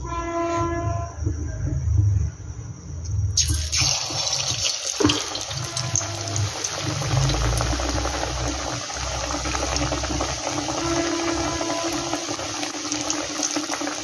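Pumpkin leaf rolls dipped in gram flour batter are dropped one by one into hot oil, setting off a loud, steady hiss and crackle of frying that swells after a few seconds and continues throughout, close by.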